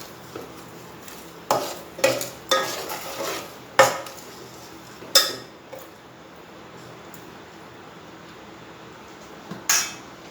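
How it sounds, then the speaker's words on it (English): Tomato curry masala with chilies and salt being mixed in a pan, a spoon knocking and scraping against the metal in several sharp clinks and scrapes, with quiet pauses between strokes. "Give it a good mix."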